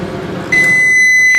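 A microwave oven runs with a low, steady hum, and a continuous high-pitched tone sets in partway through and holds steadily to the end.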